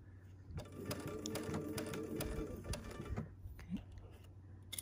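Sewing machine stitching quilt fabric for a Tula Pink butterfly quilt: a close, steady rapid rattling run of stitching that slows and stops near the end, with no talk.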